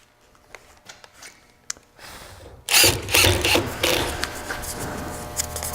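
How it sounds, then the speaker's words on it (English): Screws driven to attach a door: a few light taps and clicks, then a power driver whirs loudly for several seconds with grinding bursts as the screw bites into the wood. "Then go ahead and put those screws in."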